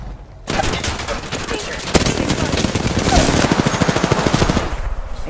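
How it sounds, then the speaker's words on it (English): Rapid automatic gunfire from enemies in a shooter video game rattles in dense bursts, loud and continuous for several seconds after a quiet start. "The enemies are shooting at me."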